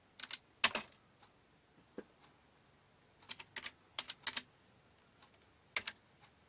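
Bursts of keystrokes on a computer keyboard entering a search, quiet and close, with short clusters of taps separated by pauses.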